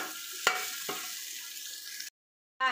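Tomatoes and spices, cumin among them, sauté in a pan for chicken biryani with a close, even sizzle broken by two sharp utensil knocks, then cut off abruptly before a brief return.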